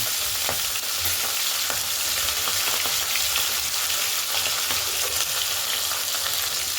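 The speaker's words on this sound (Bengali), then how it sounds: "তেলটা গরম হয়ে এলে তার মধ্যে ট্যাংরা মাছগুলো ছেড়ে দেবো ছেড়ে ভালোভাবে লাল লাল করে ভেজে তুলে নেব" Tengra fish frying in hot oil, a steady, dense sizzle and crackle that holds evenly throughout with small pops scattered over it.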